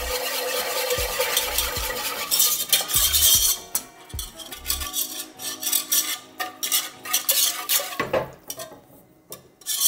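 A whisk scrapes and stirs milk into a roux in a pan for lasagna sauce, making close, uneven scraping and rubbing with rhythmic clinks of metal against the pan.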